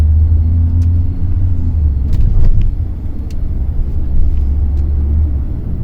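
Hyundai Creta 1.4 turbo petrol with a DCT gearbox driving at moderate pace, giving a steady low engine and road rumble inside the cabin, with small clicks and knocks over the top.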